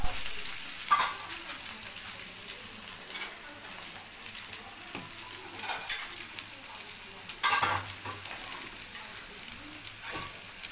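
Chow mein being stir-fried and tossed in a pan, with a continuous sizzle under repeated scraping and clattering strokes of the spatula, close up and unaccompanied by speech.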